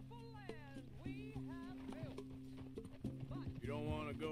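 Horse hooves clip-clop in a steady rhythm in Red Dead Redemption 2, the footfalls close and clear, with game music tones sounding underneath.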